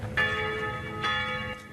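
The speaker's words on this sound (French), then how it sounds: "Tintement de cloches et vrombissement des moteurs" Church bells ring at a motorcyclists' pilgrimage in Porcaro, with two or three clear, resonant strikes standing out over a steady low rumble of engines.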